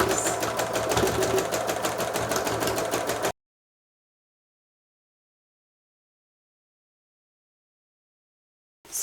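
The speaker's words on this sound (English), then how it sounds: "I'm just going to sew and thread paint" Sewing machine running steadily as it thread paints a dragonfly with layered thread, a fast close mechanical stitching rhythm that stops abruptly partway through, followed by silence and a brief restart at the end.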